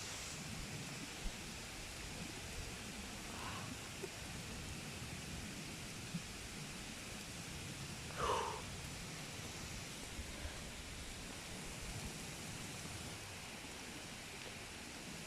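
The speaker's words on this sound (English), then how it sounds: "it's about to get windy again" Strong storm wind roars steadily with rain, a constant broad rushing wash that stays about the same loudness outdoors.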